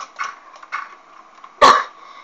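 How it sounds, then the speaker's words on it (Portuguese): One loud, harsh cough from a person, close to the microphone, after a few softer throaty sounds. "me desculpa por tossir às vezes bem alto, porque realmente não dá pra controlar a tosse"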